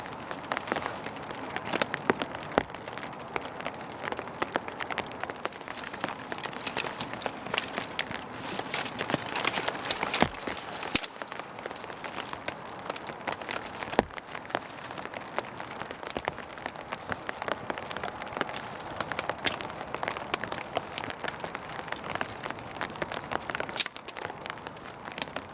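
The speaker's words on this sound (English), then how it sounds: "Sitting under the tarp in the rain." Rain patters steadily on a tarp on a winter night on a mountain, a dense, irregular drumming of drops with occasional heavier plinks, close overhead and continuous for the whole stretch.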